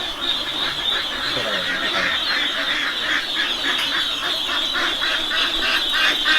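Ducks quack in a dense, continuous chorus at a duck farm in Barangay San Toque, New Corella, Davao de Oro, many birds calling at once with steady, overlapping rhythm and no voices over them.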